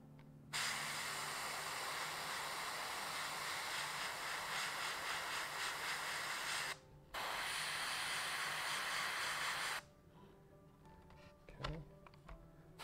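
Airbrush spraying paint onto an Imperial Knight Errant model gives a steady, close airy hiss that cuts off briefly, resumes, then stops, leaving quiet clicks and handling noises.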